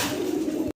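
A single low, throaty coo from a Capuchine pigeon at a pigeon farm, close and clear, lasting under a second before cutting off abruptly.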